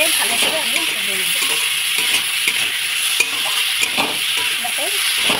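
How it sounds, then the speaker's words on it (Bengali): Pui guti (Malabar spinach seeds) frying in a pan with salt and turmeric, a steady close sizzle with scraping stir strokes throughout. "স্বাদ মতো নুন, হলুদ দিয়ে ভালো করে আমি ভেজে নেব।"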